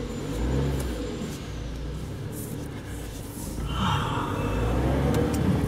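A car engine hums close by as the vehicle drives off, then rises in a brief rev toward the end, with no talking.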